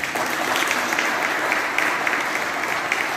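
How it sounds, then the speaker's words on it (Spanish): Crowd at a chamamé music gathering in Sarmiento applauding to receive a religious image of the Virgin of Itatí, a dense, even wash of clapping heard alone throughout. "que la podemos recibir con un aplauso"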